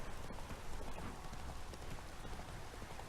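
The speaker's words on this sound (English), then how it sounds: "there's something rather satisfying about seeing your horse just riding along" Horse hooves clip-clopping as the horse is ridden along a trail in The Witcher 3: Wild Hunt, a steady, even rhythm of close, moderately loud hoofbeats on the ground, with no talking over them.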